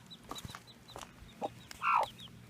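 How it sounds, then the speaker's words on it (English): A mother hen guarding newly hatched chicks gives a few soft, scattered clucks, then one louder, drawn-out call near the end, over low background noise outdoors. "And Mama Hen is doing a really good job protecting them"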